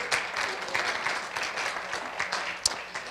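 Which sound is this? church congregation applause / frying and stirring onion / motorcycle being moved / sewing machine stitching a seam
church congregation applause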